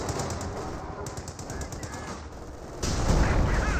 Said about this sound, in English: Looks like these bolt action rifles do fire relatively quickly for that squad.